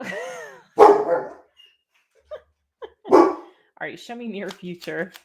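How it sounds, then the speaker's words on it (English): A dog barks a couple of times nearby, sharp separate woofs between stretches of someone talking. "Can y'all hear this dog?"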